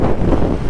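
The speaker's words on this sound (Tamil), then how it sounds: "காத்தா இருக்குண்ணா" Wind buffets the microphone as a steady, loud, low rumble throughout this short burst, recorded while out riding a Kawasaki ZX-10R motorcycle.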